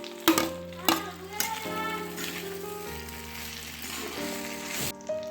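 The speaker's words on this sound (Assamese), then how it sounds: "মাংসখিনি অলপ ভাজি লোৱাৰ পিছত এতিয়া দিম অথনি ভাজি লোৱা অলপ ফ্ৰাই কৰি লোৱা আলুবোৰ" Meat and potatoes sizzle and fry in a pan close up, with a few sharp clanks of a utensil stirring near the start.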